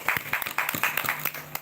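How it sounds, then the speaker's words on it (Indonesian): A crowd gathered to honour the Betawi people claps in short bursts, with several rounds of applause starting and stopping over a moment amid faint voices. "Tepuk tangan buat orang Betawi."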